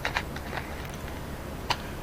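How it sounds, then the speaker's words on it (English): Typing on a computer keyboard: a few sparse, light key clicks, including a sharper tap near the end, close by over a steady hiss of background noise, with no talking. "Come on, brain, you can do more typing than this."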